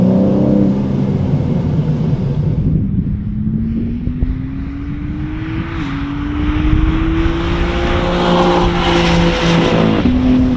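BMW M3 CS (G80) engine accelerating hard, a loud rising drone that climbs through the gears with a brief dip at a shift, heard from inside the car with a steady rushing roar underneath.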